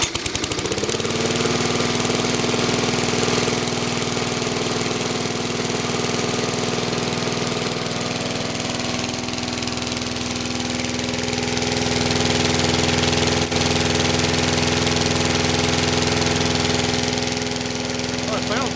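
A Yard Machines lawn mower with a 4HP Briggs & Stratton engine, fitted with a new carburetor diaphragm, starts with a quick burst and settles into a steady, loud low idle that runs throughout, with someone speaking over it.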